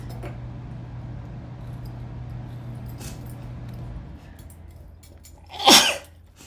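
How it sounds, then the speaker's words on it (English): A single loud, sharp sneeze bursts out near the end after several seconds of quiet room hum. "I'm going to keep sneezing"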